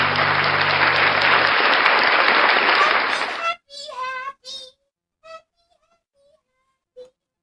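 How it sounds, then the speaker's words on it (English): Audience applause, a dense sustained burst of clapping lasting about three and a half seconds, then breaking off into short bursts of cheerful talk and calls. "Round of applause for NCR News Network."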